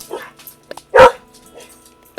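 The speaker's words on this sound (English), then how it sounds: "I do apologize for my dog and his neurotic tendencies." A neurotic dog indoors giving one sharp, loud bark near the middle, with a few softer yips and small noises before and after.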